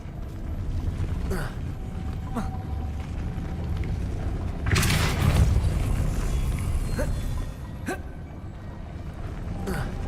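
A Depulso spell cast in the video game Hogwarts Legacy, heard as a brief whooshing magical burst with a crackling rush of energy, standing out over a steady low ambient game background.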